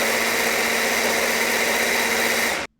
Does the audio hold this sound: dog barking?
no